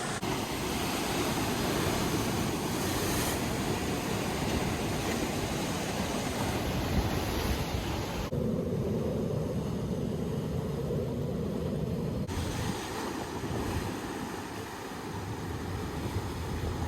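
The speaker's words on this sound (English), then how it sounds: "we just got obliterated by the waves" Pacific Ocean waves crash on a sandstone shoreline along the California coast, a continuous loud wash of surf and spray that dips briefly midway and then surges again.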